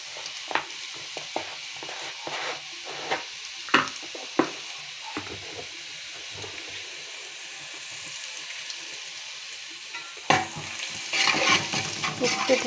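Onions frying in a pan with a pinch of salt, a soft continuous sizzle punctuated by regular spoon taps and scrapes as they are stirred, then a louder burst of sizzle near the end.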